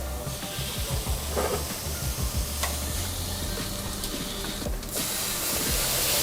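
A meat patty of sausage mix sizzles in butter in a pan, a continuous close hiss with small pops and clattering scrapes.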